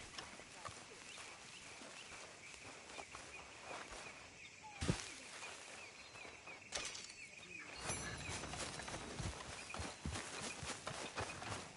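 Horse hooves clip-clop in Red Dead Redemption 2 as a steady walking rhythm of soft thuds, with a few sharper knocks and a busier stretch of movement near the end.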